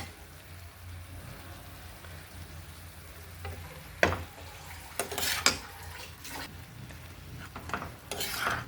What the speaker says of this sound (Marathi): भाजी मस्त परतून घ्यायची बरं का छानपैकी